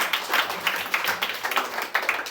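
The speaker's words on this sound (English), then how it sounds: "Clap it up for Alex." A comedy-show audience in New York claps for a contestant, a dense wash of hand claps that stays steady and fairly loud through the whole stretch.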